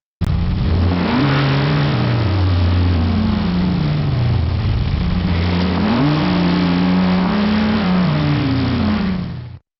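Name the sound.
AI-generated Nissan GTR race car engine sound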